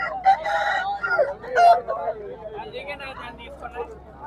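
A rooster at a Saturday country-chicken market crows loudly close by, its strained call rising over people talking and haggling in the busy background.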